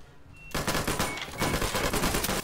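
Automatic turret fire in Half-Life 2 co-op in GMod, a loud rapid stream of shots that starts abruptly after a brief quiet moment and continues steadily to the end.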